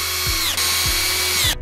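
Screwdriver driving self-tapping screws to fix a corner bracket flush with the end of a bed side rail while assembling a black Barcelona double bed; a steady motor whir with a few short ratcheting bursts, close and alone.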